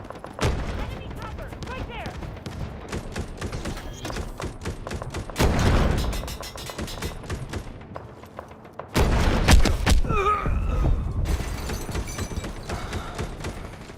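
Rapid bursts of gunfire in the video game Delta Force, loud and sustained with heavier volleys, booms and impacts throughout, while players talk over the action.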